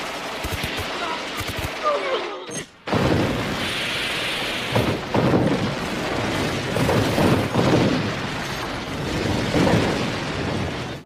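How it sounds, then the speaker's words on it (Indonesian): Police gunfight and bomb blast from the 1993 film City Hunter: a dense, loud barrage of gunfire and booming explosions, with a brief lull near the third second before the chaotic firing resumes and continues steadily to the end. "Dilanjutkan dengan adegan baku tembak polisi dan letusan bom dari McDonald"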